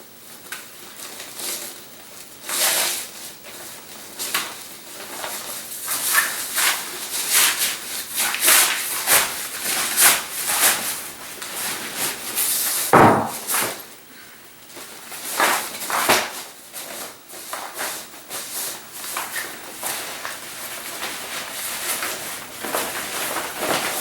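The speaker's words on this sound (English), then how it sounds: "we are going to unwrap this, see what it looks like" Close, continuous crinkling and rustling of wrapping pulled off a CE Smith Tournament Fish Cooler Bag, a sturdy nylon fish bag, with uneven scrapes and crackles throughout and no talking.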